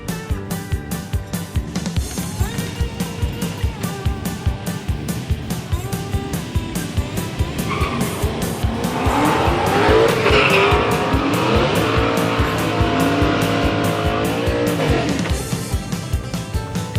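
Drag-strip cars, including a 1968 Cutlass and a 1970 Mustang, throb at a rough, loping idle, then rev hard with tire squeal and a burst of roaring acceleration before easing back to a rumble. The sound is loud and nearby throughout.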